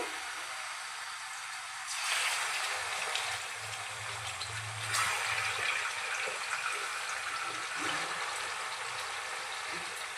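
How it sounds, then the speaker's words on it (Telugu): Marinated chicken pieces hit hot oil with a loud, steady sizzling hiss that surges twice as more pieces go in, then settles into a continuous crackling fry. "ఆ చికెన్ అయితే ఈ ఆయిల్లో ఇలా వేసేసుకోవాలి"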